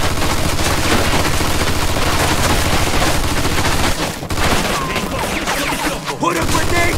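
Dense, loud machine-gun fire in Mafia II: continuous rapid bursts and overlapping shots for several seconds, briefly dipping before resuming, with faint shouting mixed underneath.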